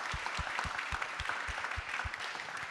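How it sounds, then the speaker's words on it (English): An audience claps for a conference panel on AI and automation, a steady patter of applause with distinct rhythmic hand claps at moderate distance, no talking. "Please give them a round of applause."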